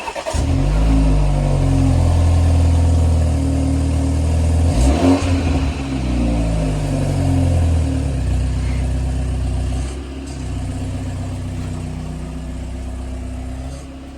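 A BMW G21 320i cold-starts and settles into a loud, steady close-range run. Its early revving eases into a slightly lower idle that holds to the end, with no voices over it.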